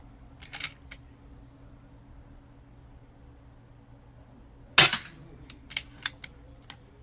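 A moderated Umarex Zelos .25 air rifle fires once, giving a sharp, close crack followed by a few fainter clicks and knocks, with quieter handling ticks near the start.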